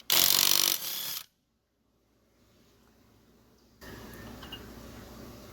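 A Neiko 1/2-inch impact wrench removes lug nuts from a Silverado wheel: one loud, close burst of rapid hammering lasts about a second, then silence, then a steady lower hum.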